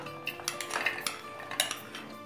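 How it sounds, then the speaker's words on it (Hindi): Dry moong beans and white chickpeas rattle and clatter into a grinder jar in a few quick, close bursts of hard grains striking the container, with no talking. "मूंग को मैंने जार में डाल दिया है और साथ में डालेंगे सफ़ेद चने को।"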